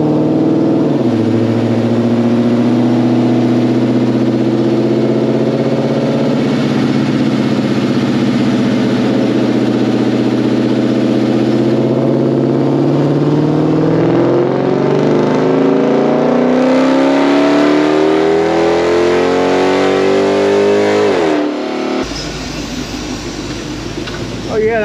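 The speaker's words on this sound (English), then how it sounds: "we're gonna do just a final pull" A 2006 Chrysler 300 SRT8 with a newly installed camshaft makes a full pull on a dyno, the engine note climbing loudly and sweeping upward in pitch, then dropping away and settling into a steady idle.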